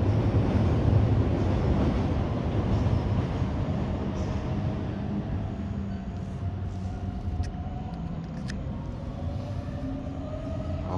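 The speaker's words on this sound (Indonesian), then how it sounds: "Baru jalan lagi dia keretanya." A small amusement-park ride train rolls along its track through a forest monkey park in Gifu, Japan, giving a steady, close rumble with faint squeaks and light wind noise across the microphone.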